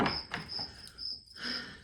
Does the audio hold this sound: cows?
no